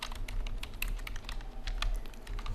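Steady typing on a computer keyboard, a rapid run of close, clicky keystrokes at an even pace with no pauses and no talking.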